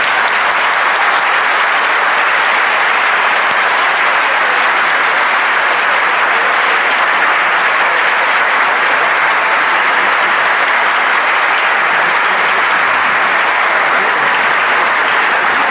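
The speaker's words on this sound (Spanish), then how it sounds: "un muy fuerte aplauso para recibir a Eduardo" Loud, sustained applause from an audience at a formal law lecture, thick and unbroken clapping from many people that holds steady for over fifteen seconds with no speech on top.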